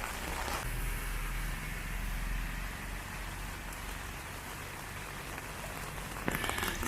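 Steady rain falls in humid Sri Lanka, a constant broadband hiss of drops on surfaces that stays even throughout, with no voices.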